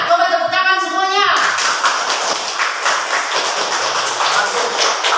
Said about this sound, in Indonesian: Coba tepuk tangan semuanya.